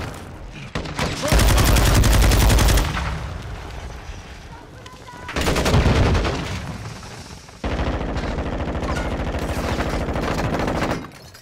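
Bursts of automatic gunfire crack loudly in Modern Warfare 2 Domination matches, several sustained volleys separated by short lulls, with a player talking between them.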